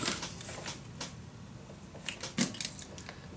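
Paper being cut for a handmade mini album, a run of crisp, close snips and rustles scattered over a few seconds, with a louder cluster of cuts near the end in an otherwise quiet room.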